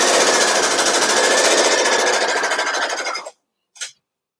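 Sewing machine stitching a folded seam with the presser foot as a guide, a fast, even, loud rattling hum for about three seconds that stops abruptly, followed by one short burst.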